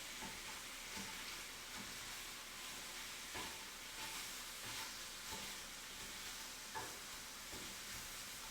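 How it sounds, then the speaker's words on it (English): Sausage fries in a pan with a steady, loud hiss and sizzle, while a utensil stirs it with soft periodic scraping sounds, close and without talk. "I'll go back and stir that sausage here in a minute"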